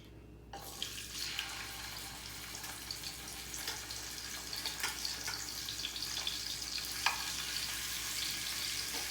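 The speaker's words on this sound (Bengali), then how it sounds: "এখন ফ্রাই প্যানে দিয়ে আমি ভাজি করে নেব" Spiced katla fish sizzles in a frying pan with a constant bright crackle and hiss, occasional sharper pops standing out, no talk over it.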